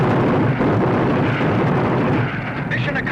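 Demolition charges go off in a cartoon crater, giving a loud, sustained rumbling blast with dense roaring noise that fills the moment before fading slightly at the end.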